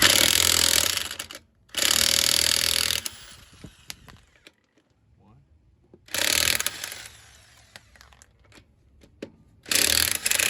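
An old DeWalt power tool runs in loud, close bursts of buzzing mechanical rattle, cutting off into near silence and starting again several times.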